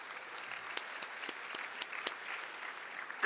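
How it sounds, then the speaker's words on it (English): Applause from the audience at a public health conference plenary in Africa, a steady, moderately distant wash of clapping with a few sharper claps standing out, lasting throughout. "I ask for applause for their representation in this plenary"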